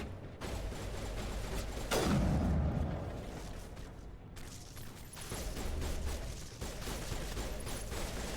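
Heavy gunfire and a booming blast in the Mass Effect 1 video game, with a sharp loud shot followed by rumbling and mechanical clatter, fairly quiet overall and mostly free of talk.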